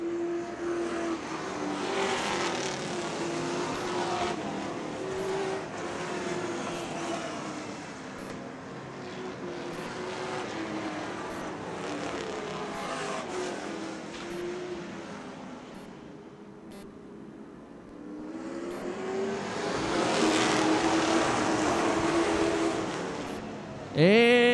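Late model sportsman race cars roar off at the start of a race, with several engines revving and blending into a loud, sustained drone that dips and then swells again as the pack sweeps past.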